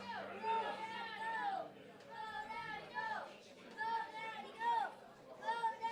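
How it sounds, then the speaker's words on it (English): Young children shout and cheer excitedly for a competitor at an Iron Age charity log lift strongman event, their high voices rising in repeated bursts against a busy crowd murmur. "We do hear his kids cheering him on."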